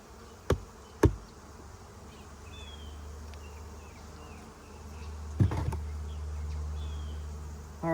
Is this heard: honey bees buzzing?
yes